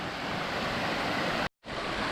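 Tumpak Sewu waterfall roars as a steady, dense wash of rushing water, loud and close throughout with one abrupt brief dropout near the end.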